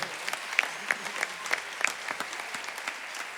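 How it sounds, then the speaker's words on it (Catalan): A concert audience applauds a singer after a big band number, steady clapping from many hands with a few sharper, closer claps and faint whoops standing out. "Un fort aplaudiment per Míriam Alberó."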